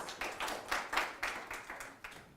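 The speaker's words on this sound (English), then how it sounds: "Can we give him a round of applause?" An audience at an academic presentation claps in a quick burst of distinct hand claps that sounds thin and somewhat distant, like a small group applauding briefly.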